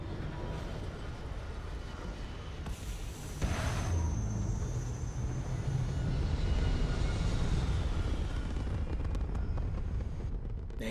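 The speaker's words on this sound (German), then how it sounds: "Und abheben. Wir können starten." Spaceship lifting off in Starfield, a broad rumbling engine roar that swells louder after a few seconds and holds steady, with a faint whining tone above, no talking.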